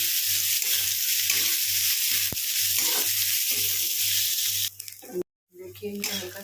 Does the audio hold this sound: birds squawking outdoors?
no